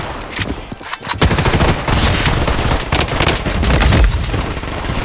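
Rapid automatic SCAR rifle fire in the shooter game Blood Strike, with a Blood Vengeance skin, forms a loud, dense, continuous burst of shots that fills the whole stretch after a brief pause near the start.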